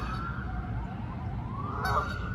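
Geese honk outdoors in a few loud, nasal calls that rise and fall over low background rumble, with no talk.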